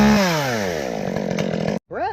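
A saw cuts off a small tree branch during pruning near electrical lines, a loud steady buzzing whine that runs close up for nearly two seconds and then cuts out abruptly, followed by a short, higher rising sound.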